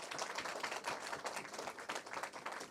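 An audience applauding at a Hindi poetry recital (kavi sammelan), a faint, dense patter of many hands clapping continuously throughout, heard from some distance with no speech.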